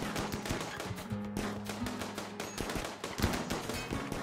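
Rapid bursts of gunfire from a firefight in the colony-management video game RimWorld, crackling shots and volleys layered densely and continuously over a steady low game hum, with no talk.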